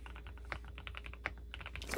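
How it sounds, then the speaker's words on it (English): Rapid typing on a mechanical keyboard fitted with Ink Black linear switches, a dense run of crisp, close keystrokes with a few sharper louder presses, heard alone. "My personal favorite is an ink black switch,"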